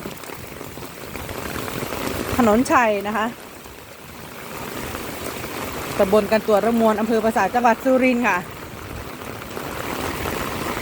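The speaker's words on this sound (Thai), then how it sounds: "อันนี้ก็เป็นบรรยากาศฝนตกนะคะ" Heavy steady rainfall hisses continuously in the background at a flooded home while someone speaks in short stretches over it.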